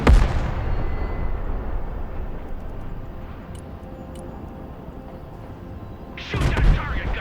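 An M1 Abrams tank cannon fires at a target in the video game Broken Arrow, a loud booming blast that decays into a long rumbling tail, followed by a second sharp burst near the end.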